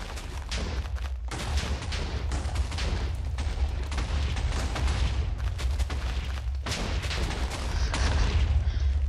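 Continuous roaring explosions tear apart a boss's building in a Minecraft map, a dense rolling barrage of booms and crackling blasts lasting throughout, with brief lulls before new waves of detonations.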